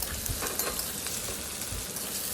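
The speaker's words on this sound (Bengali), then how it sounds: "পেঁয়াজগুলো একটু আমি ভালো করে ভেজে নেব।" Chopped onions fry in a pan for a mutton curry, added after potatoes were fried, giving a soft, continuous sizzle with faint stirring noises throughout.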